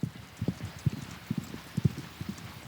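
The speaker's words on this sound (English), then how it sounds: "They're a very old Tsaimatukas breed, real indigenous Lithuanian horses." Hooves of an old indigenous Lithuanian horse of the Tsaimatukas breed clip-clop in a steady walking rhythm, moderately close and distinct, with no talking.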